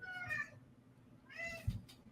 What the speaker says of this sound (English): my cat's got something to say about things, man.